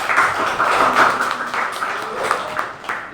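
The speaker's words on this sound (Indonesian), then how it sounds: "Tepuk tangan." Classroom applause from a group of students at the end of a group presentation, a steady wash of clapping lasting the whole stretch with no clear talk over it.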